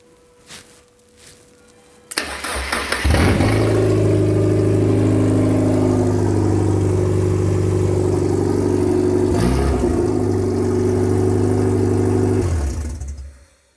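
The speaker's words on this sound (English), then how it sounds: "So yeah, hopefully when I turn the key, we get spark, we get fuel, we get cranking, and then it fires up." A Hayabusa motorcycle engine fitted in a Mazda MX5 build cranks briefly, then fires up and settles into a steady, loud idle that holds for about ten seconds before shutting off; no one speaks.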